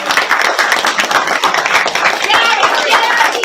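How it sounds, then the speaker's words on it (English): An audience at a live reading of "Dancing On Glass" breaks into loud, dense clapping that fills the whole stretch, close and sustained, with crowd noise mixed in. "Again, everybody, a big round of applause."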